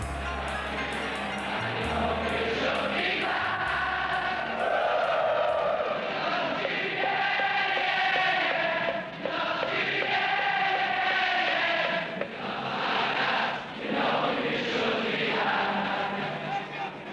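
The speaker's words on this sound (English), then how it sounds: "The music the crowd sings is the music that Liverpool has sent echoing around the world." A Liverpool football crowd sings in unison as a dense, sustained mass of voices, loud and continuous, with swelling chant phrases and brief dips between lines.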